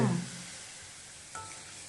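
Oil bubbles as ridge gourd chivda fries in the pan, a faint, steady sizzle and crackle following a brief stirring sound at the start.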